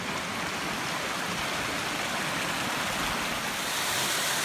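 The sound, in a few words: Obsidian Falls waterfall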